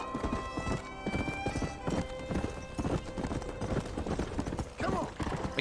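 Horse hooves from the video game Red Dead Redemption clop in a quick, steady rhythm, close and clear, with a brief whinny near the end over faint background sound.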